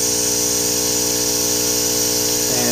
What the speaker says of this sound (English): You just put water in here. It's got a little filter at the top, and you just blow through,